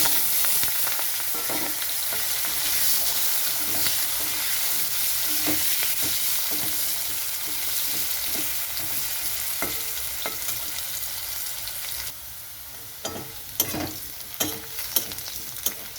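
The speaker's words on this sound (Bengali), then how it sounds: "তো এখানে আলুটা এরকমভাবে ভেজে নিতে হবে" Potatoes frying in oil with black cumin and green chili, a steady loud sizzle throughout with occasional stirring clinks and scrapes near the end.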